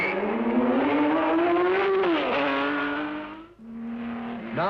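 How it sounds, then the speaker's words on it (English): Racing cars in a long-distance road race scream past, a high engine note rising through the gears, dipping at a shift, then rising again, loud and close with no voices. "Now the big bangers are chasing the small cars hard, and the race is really on"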